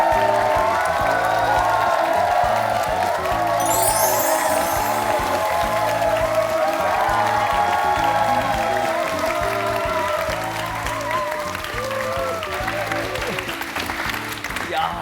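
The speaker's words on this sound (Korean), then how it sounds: "큰 박수로 모시겠습니다." A talk-show studio audience claps loudly to welcome a guest, a long-distance cyclist, with sustained applause and a few whoops, while rhythmic music plays underneath and a host's voice comes through toward the end.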